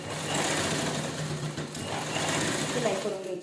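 A sewing machine stitching a folded hem on a top, a steady close rattling whir running throughout, with someone talking over it.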